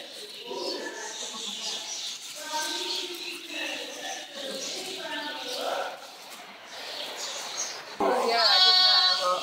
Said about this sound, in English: So we've got a lovely selection of lambs and goat kids